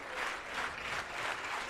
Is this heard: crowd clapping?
yes